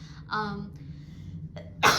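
A quick intake of breath with a nasal, voiced build-up, then a sudden sharp burst at the end, like a sneeze, close to the listener.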